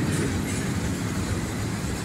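A train rolls along railroad tracks at a crossing, a steady, loud broadband rumble with faint wheel clatter that holds evenly throughout, no voices heard.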